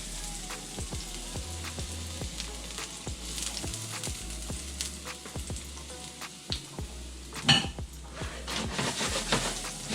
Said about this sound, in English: Start out with, this time, extra virgin olive oil since we're cooking with it, and our chopped garlic